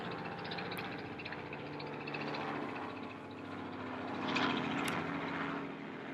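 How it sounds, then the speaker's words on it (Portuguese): A helicopter drones overhead, a faint, steady engine and rotor hum with tonal whine that swells briefly toward the end as it passes, no speech heard over it. "Tá passando um helicóptero."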